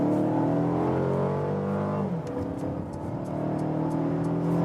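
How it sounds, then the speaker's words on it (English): Cabin view of a Mercedes C-Class with a 2-liter four-cylinder accelerating hard in sport mode from 50 to 100 km/h, engine note climbing steadily, dropping briefly at a gear change, then rising again, loud and continuous with no talk. "I think for a 2-liter 4-cylinder, the sound was quite decent here on the interior."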